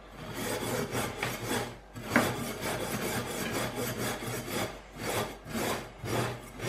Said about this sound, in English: I'm just going to give them a scrub.